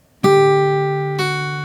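Two plucked guitar strings ring together, followed about a second later by a lighter second attack, notes sustaining evenly without any voices.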